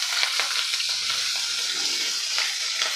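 Garlic and grated ginger fry in a pan, a continuous close sizzle broken by light stirring scrapes throughout.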